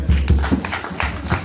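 Several people clap in uneven bursts at a traditional wedding, repeated sharp claps at close range against a busy room with a murmur of voices.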